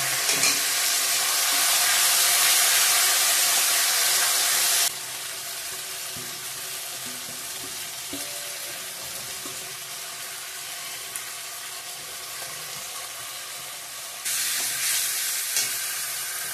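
Marinated chicken, seasoned with cardamom and ginger, frying in a pan with a loud, steady close sizzle that drops to a softer crackle partway through and then surges again.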